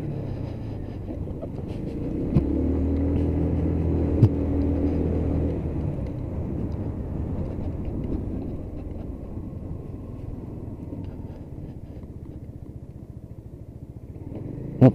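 A Lexmoto Titan 125cc motorcycle engine on the move, a steady close rumble with a buzzy drone that rises briefly in the first few seconds, then settles to a lower, even hum.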